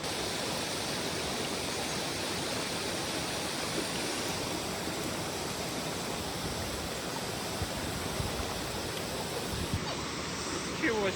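A waterfall deep in the jungle pours steadily, making a dense, even roar of rushing water that holds at one level throughout with no break.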